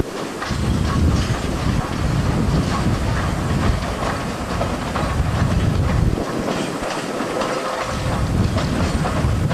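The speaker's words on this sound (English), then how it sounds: "here comes 1679 doing some switching moves for us to demonstrate the capabilities of the engine, quick acceleration" SY class 2-8-2 steam locomotive No. 1679 making switching moves at the Tangshan coal mine, accelerating quickly with steady rumbling chuffs and rail clatter, loud and continuous throughout, with no talk.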